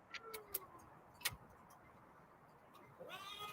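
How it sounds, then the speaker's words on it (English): A faint cat meow rises near the end after a few scattered clicks and soft knocks, quiet and fairly close in a calm room. "She said, meow."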